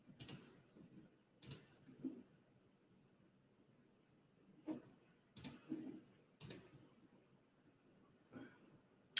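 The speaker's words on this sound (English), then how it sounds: "I'm just clicking around" A computer mouse clicks during a screen-sharing attempt: short, sharp, isolated clicks fall in small clusters across the stretch, with faint low room noise and near-silence between them.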